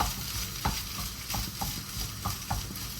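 A spatula stirs and scrapes food around a frying pan at a home breakfast stove, a few distinct scraping strokes over a continuous sizzle.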